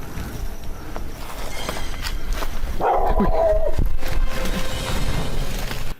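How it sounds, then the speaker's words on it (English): A dog barks close by inside a derelict building. A short burst of barking cuts through steady, noisy background rumble partway through. "The team is startled back by a dog barking."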